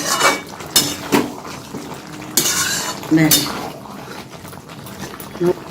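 Navratan curry being stirred with a spoon in a pan after garam masala is added, giving scattered scrapes and clinks of utensil against metal with a faint sizzle, under intermittent talking.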